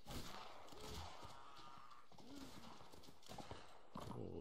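Horse hooves clip-clop in a Mount & Blade battle set in the Anglo-Zulu war, a steady trotting beat under loud battle noise with occasional gunshots and a speaking voice.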